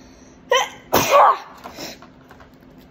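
A single sharp, forceful sneeze comes through clearly indoors during a toy figure unboxing. It is preceded by a short intake of breath, and quiet handling sounds follow.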